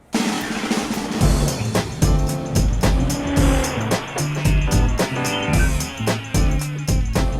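A 2009 Range Rover Sport HSE with a 4.4-liter V8 drives hard, the engine revving and shifting through gears in a loud, continuous, up-and-down roar with tire noise, close and without talk.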